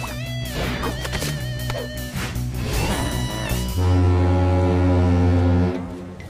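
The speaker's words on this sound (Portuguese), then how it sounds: "Não é uma corneta de guerra, é uma corneta de comida." A cartoon food horn blares loud and steady, a sustained low honk lasting about two seconds after a busy stretch of music and effects.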